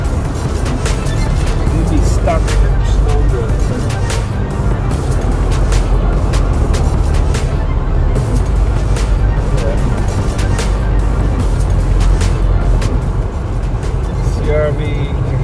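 A lifted second-generation Honda CR-V drives through snow at night, its engine and tire noise a loud, steady roar that runs throughout. Voices talk over it.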